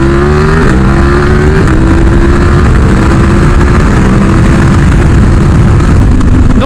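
A big bike motorcycle engine roars loud and close while it shifts gears, its pitch climbing and then dropping at each shift over a constant heavy drone.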